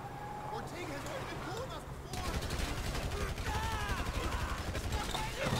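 Rapid bursts of gunfire in a GTA V shootout, a dense continuous crackle growing louder after a quieter opening, with talk running underneath.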